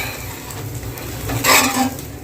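Egg chapati frying in a pan over medium heat, a soft steady sizzle with a brief scraping clatter as it is flipped, close and fairly loud, no voices.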